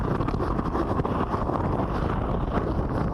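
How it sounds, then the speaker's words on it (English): A strong hurricane wind gust during Hurricane Laura roars steadily against the microphone, a dense low rumble that barely lets up. "That's a big gust right there. That's a big one right there."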